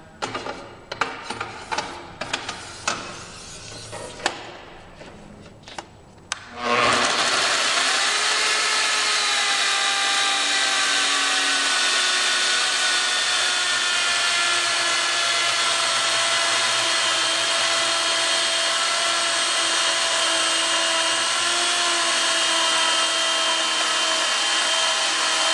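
A Mafell ZSXEc 400 chain beam saw makes a compound miter cut at 45 and 45 degrees through a timber beam, a few clicks and handling knocks leading into a loud, steady, high-pitched chain whine that holds unbroken to the end.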